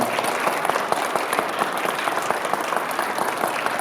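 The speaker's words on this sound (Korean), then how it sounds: "박수로 환영해 주시 부탁드리겠습니다" An audience at a Korean college council's annual general meeting applauds in welcome, a dense, even clapping sustained throughout with no voices.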